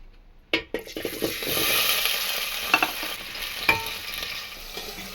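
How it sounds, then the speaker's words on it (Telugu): Pumpkin pieces frying in a generous amount of oil for biryani, with a steady close sizzle and occasional clinks and stirring scrapes of a utensil against the pan. "ఇప్పుడైతే గుమ్మడి ముక్కలు వేయించేసుకుందాం."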